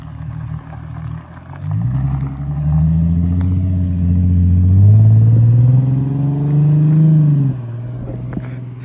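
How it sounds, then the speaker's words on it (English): A Nissan 370Z pulls away, its deep engine note rising in pitch as it accelerates through a gear, loud and close at first, then settling into a steady drone before easing off. "I've never listened to my car from like someone else driving away."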